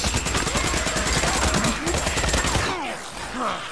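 Loud bursts of rapid gunfire rattle through a Days Gone horde battle, fast repeated shots for over two seconds before breaking off, leaving a quieter mix of game noise and creature cries.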